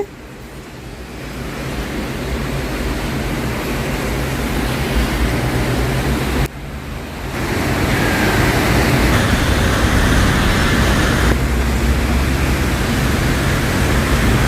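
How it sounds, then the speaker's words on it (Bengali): Heavy rain falls in Dubai as a loud, steady hiss of broadband noise that swells after the first few seconds and stays dense throughout, with no talking. "বেশ জোরে বৃষ্টি হচ্ছে, বেশ জোরে।"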